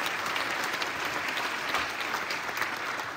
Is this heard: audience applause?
yes